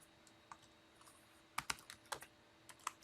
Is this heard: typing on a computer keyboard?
yes